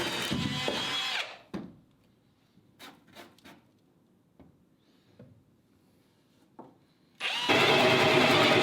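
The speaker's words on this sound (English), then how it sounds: "It always drills through hard at the end." A power drill bores through material in two loud, close bursts, one at the start and one at the end, with scattered small knocks and clicks in the quiet gap between.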